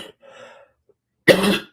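A person gives a short throat clear followed by one sharp, loud cough close to the microphone, with a brief quiet gap between them.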